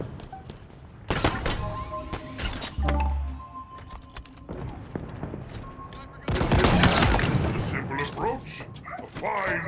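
Sniper rifle fire in a Halo Big Team Battle match, several sharp loud shots scattered among bursts of other gunfire and game noise, under excited shouting voices.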